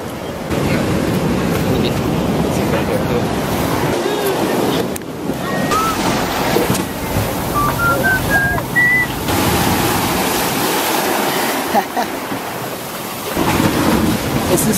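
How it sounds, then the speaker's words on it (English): Ocean waves crash steadily against rocky tide pools, a continuous broadband surf roar with periodic surges, close and loud throughout, with a few faint whistle-like tones drifting above. "The water comes crashing."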